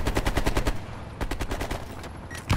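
Rapid automatic gunfire in Call of Duty: Black Ops Cold War, a fast burst of close loud shots, a pause, then shorter bursts and a final shot.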